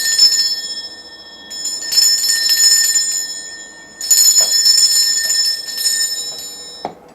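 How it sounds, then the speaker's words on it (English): A bell rung to cleanse a space, several clear bright metallic strikes in separate bursts, each ringing out with a sustained shimmering tone that fades before the next, close and loud with no talking. "Okay, I'm going to be ringing this bell."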